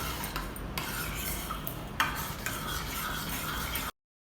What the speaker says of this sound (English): Keep stirring it and you will find that it is getting thickened.